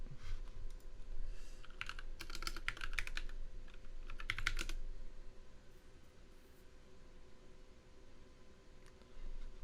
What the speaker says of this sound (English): Now you just type in your password.